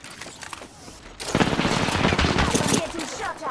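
Sustained automatic gunfire in an Apex Legends firefight, a few scattered shots at first and then a dense, loud stream of rapid rounds with faint game voice lines.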